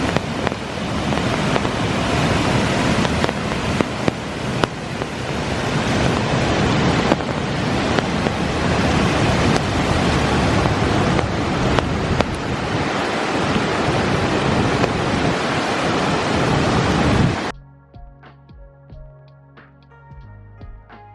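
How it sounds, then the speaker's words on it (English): Fast, powerful water rushes past a ruined mill destroyed by a dam in a loud, continuous roar close to the microphone, with gusty buffeting, before cutting off abruptly near the end. "Look at the speed of the water coming down there."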